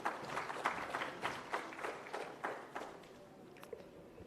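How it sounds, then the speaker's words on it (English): Sparse, rhythmic clapping from an audience at a government event in Andhra Pradesh, individual claps distinct and fairly close, thinning out toward the end. "Round of applause, please, ladies and gentlemen."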